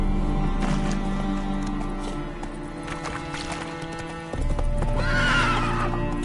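A horse gallops in The Witcher 3 video game, with rapid rhythmic hoofbeats, loud and close, and a whinny rising near the end.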